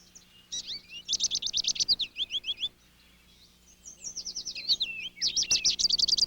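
Finches at a backyard feeder stocked with Niger seed chirp in quick, repeated trilled bursts, close and bright, with short pauses between the phrases.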